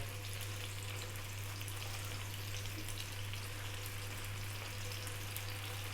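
Pieces of carp fish sizzle in hot oil in a pan, a steady, dense crackle that holds level the whole time alongside a low constant hum.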